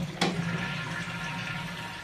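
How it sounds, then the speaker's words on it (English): A hotel room toilet flushes, starting with a sharp click of the lever followed by a steady rushing gush of water filling the bowl, close and alone. "make sure the toilet flush is completely working"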